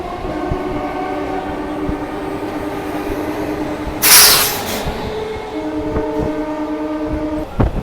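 A local train on the Kharagpur–Digha line stands at Balichak railway station platform, its engine droning loudly and steadily, with a short burst of hiss or horn midway and a few clanks, no talk.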